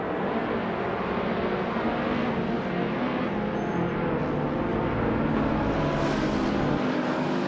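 A 2016 Hyundai Elantra and rival cars roar steadily in a racing game, a dense and continuous engine drone with no break and no talking.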